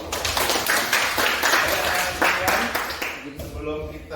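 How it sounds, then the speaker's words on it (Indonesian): Schoolchildren clapping in a classroom, a brief burst of dense, close applause with voices mixed in that tapers off near the end. "Kita beri tepuk tangan dulu."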